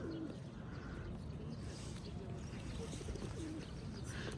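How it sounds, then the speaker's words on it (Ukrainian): Faint pigeon coos drift through a quiet outdoor park scene in Kryvyi Rih, Ukraine, with a steady low background rumble. "Гляньте, голуб прилетів."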